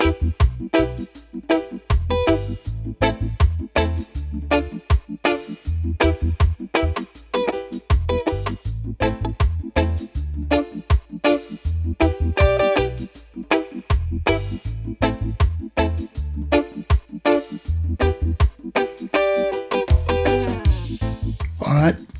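Electric guitar through an amp set for reggae rhythm plays steady choppy offbeat chords with a full, bright tone, loud and continuous throughout with no talking.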